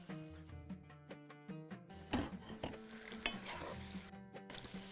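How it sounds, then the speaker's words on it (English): Onion sautéing in hot oil with cloves, black pepper, cardamom, cinnamon, bay leaves and black lemon for chicken machboos, a steady sizzle broken by repeated scrapes and clacks of a spoon stirring the pot. "with the oil and the sauteing the onion, starting with cloves, black pepper, cardamom, cinnamon, bay leaves, and black lemon"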